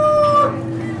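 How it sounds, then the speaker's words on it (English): An angry chicken at an agricultural show gives a loud, strained call with a rising then falling pitch that lasts about half a second, followed by steady crowd and fairground noise. "That's the angriest chicken."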